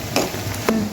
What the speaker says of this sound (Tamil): இதை போட்டு ஒரு கிளறிட்டு இது ஒரு 5 நிமிஷம் நல்லா வதங்கணும்.